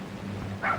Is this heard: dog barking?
yes